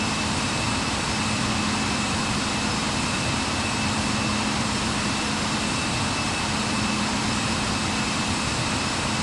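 An airplane's jet engines roar steadily during takeoff rotation, a loud, constant, broadband rush with a faint whine on top, heard alone without talk.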